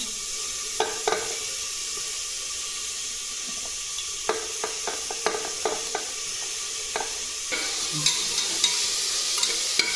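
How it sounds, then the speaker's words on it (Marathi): Onion sautéing in oil inside a pressure cooker, a continuous sizzle punctuated by sharp spoon taps and scrapes against the metal, growing slightly louder near the end, no talking. "कांदा थोडा परतला आहे"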